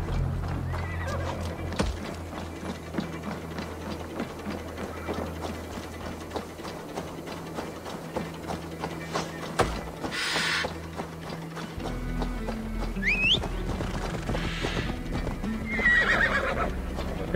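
A horse in Assassin's Creed Valhalla neighs and whinnies while its hooves clip-clop steadily, mixed with mechanical ratcheting game sounds and a brief shift in the background texture partway through.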